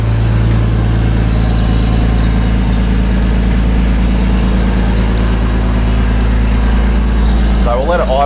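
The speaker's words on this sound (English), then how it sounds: "Sounds like it's got a exhaust leak already." A Ford Falcon BA Mk2 XR6 Turbo with a manual gearbox and an exhaust leak idles close by with a steady deep rumble, and a voice briefly speaks near the end.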